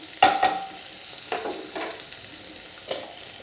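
Moong dal roasts in a pan with quiet, dry crackling and a few sharp scraping stirs near the start, then fades to a soft background hiss.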